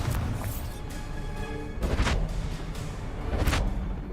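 Spell explosions in Hogwarts Legacy, a few heavy booming blasts a second or two apart over a dense rumbling battle bed, with no talking.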